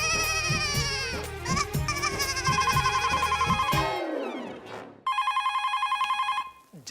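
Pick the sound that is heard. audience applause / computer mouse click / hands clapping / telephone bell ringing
telephone bell ringing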